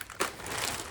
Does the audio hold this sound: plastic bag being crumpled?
yes